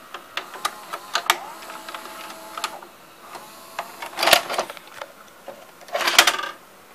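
A Funai XR-1000 VCR ejecting a tape, a run of close mechanical clicks, whirs and clunks from the transport, with two louder clattering bursts near the end.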